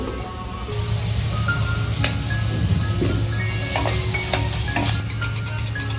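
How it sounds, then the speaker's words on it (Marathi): Masala gravy fries in oil for tadka-style palak paneer, producing a loud, steady close sizzle with a low hum underneath and occasional soft stirring scrapes. "हा मसाला आपला असा ग्रेव्ही तेलामध्ये चांगली भाजून घेतलेला"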